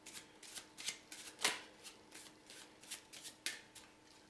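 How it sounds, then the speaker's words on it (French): A deck of playing cards is riffled and shuffled by hand, giving a quiet, close series of crisp flutters in a fairly regular rhythm, one slightly louder snap in the middle. "On va remélanger."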